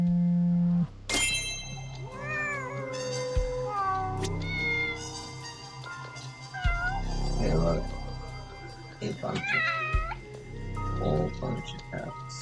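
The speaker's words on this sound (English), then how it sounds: "whole bunch of cats." Several cats meow in varied, rising and falling calls in a video game, Judgment, some overlapping, while a person speaks briefly over them.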